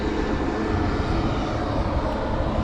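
Delta airliner rolling on the runway at San Juan's Luis Muñoz Marín International Airport, a steady broad engine roar held at constant loudness throughout, heard from a distance with no talk.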